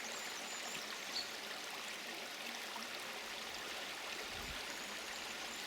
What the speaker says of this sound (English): fresh running water like this